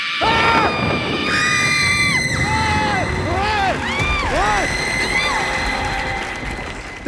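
Loud, frantic screaming in a comedy show scene, several shrill rising and falling yells with a lively crowd and shouts around them throughout.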